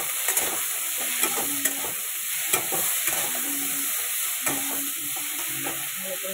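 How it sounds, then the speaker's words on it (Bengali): Food fries in a pan after salt and turmeric are added, a loud continuous sizzle broken by repeated scraping stirs and light clinks of a spatula, with no one speaking. "ভালো করে এবার ভাজা হোক আগে।"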